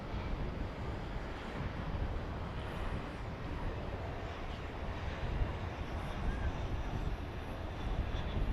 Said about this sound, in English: Another Airbus A320 coming in from Silao in Mexico.